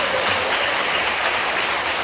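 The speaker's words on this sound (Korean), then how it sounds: "박수 보내주시기 바랍니다" A packed church hall at a cheerful pop-song retreat concert fills with continuous, loud applause, a thick unbroken roar of clapping from the congregation audience throughout.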